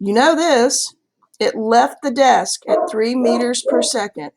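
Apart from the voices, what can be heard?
dog barking in the background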